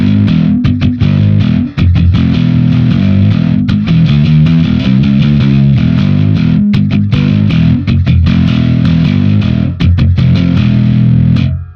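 Heavily distorted bass guitar through a Darkglass B3K distortion pedal into a Darkglass Infinity 500 combo plays a loud, chugging riff with sustained gritty notes and short pauses between phrases.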